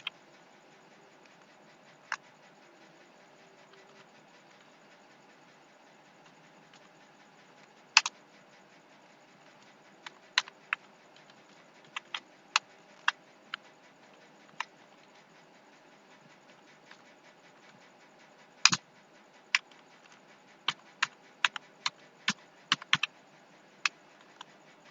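Keys on a computer keyboard tapped while a C graphics program is written, sparse isolated clicks and short bursts standing out over a steady low background hum, moderately close.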